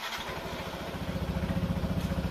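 A Yamaha NMAX scooter fitted with a keyless starter cranks briefly and catches, settling into a close, rhythmic idle putter over a couple of seconds.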